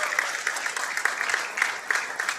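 A crowd at a Las Vegas pool tournament claps steadily after a break and run, a dense, even applause that stays at a constant level throughout.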